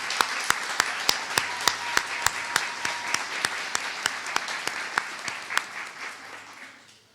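An audience at an annual meeting ceremony claps in a crowd, with distinct sharp claps punctuating the steady applause. The clapping runs at a fairly even pace, then thins out and fades near the end.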